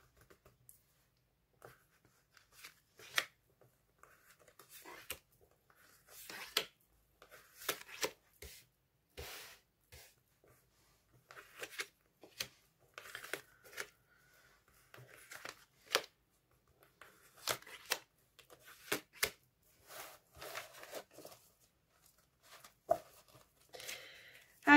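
Tarot cards are shuffled for a card draw in close, quiet surroundings, giving irregular soft riffles, slaps and papery flicks in uneven bursts with short pauses between them.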